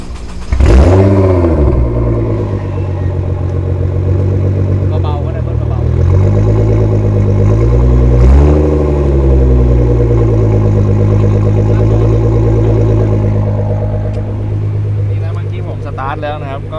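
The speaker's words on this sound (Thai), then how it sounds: "เดี๋ยวพี่ต้นสตาร์ทฟังเสียงเลยแล้วกันพี่" A Nissan GT-R R35 with a 700 hp VR38DETT engine cranks and fires up, then revs in several rising and falling sweeps before settling into a loud, deep idle, recorded close.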